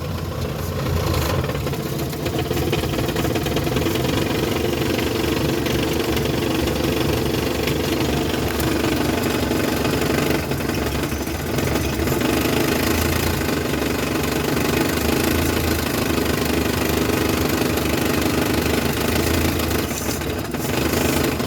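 A van engine, just repaired, runs in drive with a steady, close, uneven knocking hum for around twenty seconds, with no talk.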